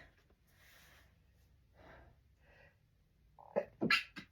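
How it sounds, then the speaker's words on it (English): A quiet stretch of faint breathy sounds, then a sudden sharp sneeze bursts out near the end, loud and close. "I'm probably going to have to sneeze"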